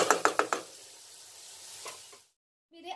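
Potatoes cooking in a covered pan for poha: a few quick utensil knocks, then a soft, steady sizzling hiss that fades and cuts off abruptly, with a brief faint clatter at the end.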